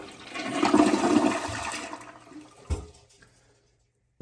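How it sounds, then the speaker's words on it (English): A toilet flushes partway through fitting a Pikets bidet seat. There is a loud rushing surge that tapers into a quieter refill trickle, then a sharp knock and near silence, with no talking. "So I'm just going to go ahead and make a flush."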